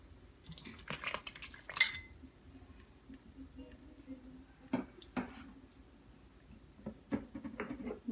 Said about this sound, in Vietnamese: Bây giờ mình sẽ cho cà vào.